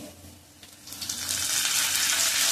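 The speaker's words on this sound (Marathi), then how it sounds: "आलं लसूणची पेस्ट चांगलं त्याचा वाईट जाईपर्यंत तळून घ्यायचं." Ginger garlic paste fries in a hot pan, a steady sizzle that swells loud and hissing after a softer start, with no voices.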